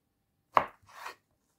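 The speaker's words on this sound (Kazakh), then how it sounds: "Осылай 4-ке бөліп бананды." A knife slicing through a banana into pieces on a cutting board, one sharp tap of the blade followed by a softer scraping cut, close and otherwise quiet.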